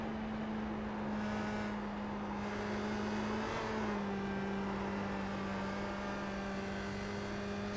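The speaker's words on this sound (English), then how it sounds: "Hear the car spin there" A USF-2000 open-wheel race car spinning on the New Hampshire oval, heard as a steady, continuous engine drone whose pitch dips and shifts midway, distant and even without distinct tire screech.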